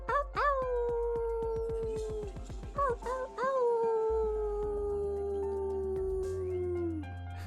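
A human voice imitates a wolf howl, one long sustained tone that rises and slides slowly downward, preceded by a quick run of yips, close and clear.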